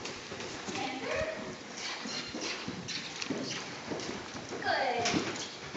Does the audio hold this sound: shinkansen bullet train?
no